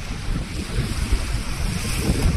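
Water rushes fast along a newly dug canal into the sea, a steady broadband roar with gusty wind buffeting the microphone throughout and no voices.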